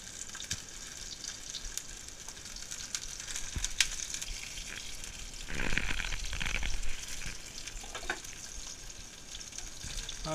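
Garlic-thyme steak fries in a pan with a steady broadband sizzle and hiss that swells louder for a second or two midway, then settles back; no talking.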